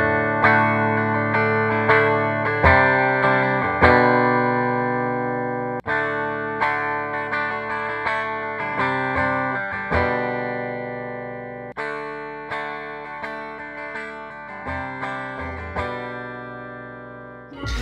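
Clean electric guitar played through a volume pedal, a series of chords and notes, each one swelling and fading as the volume rises and drops.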